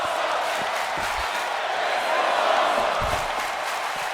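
Wrestling arena crowd at an SCW Showdown match, a steady roar of cheering and chanting filling the room at moderate loudness, with a commentator's voice over it.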